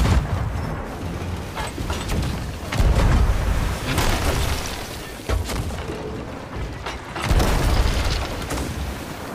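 Ship cannons firing in the pirate game Sea of Thieves, a series of heavy booms about every two seconds, each a deep low-end blast over a constant rumble of sea and wind.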